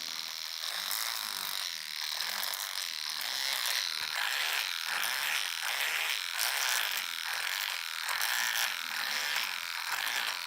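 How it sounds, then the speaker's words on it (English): A cordless hedge trimmer with dying batteries hums and buzzes continuously nearby while cutting a bush, its high whine pulsing and faltering slightly as if straining, with no talking. "that's what I get for taking a hedge trimmer to the bush."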